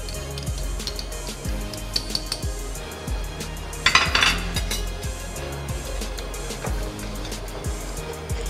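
Metal spoon stirring coconut milk sauce thickened with cornstarch in a pot, repeated scraping strokes against the pot in a steady rhythm, with a brief louder clatter of clinks midway, close and clear.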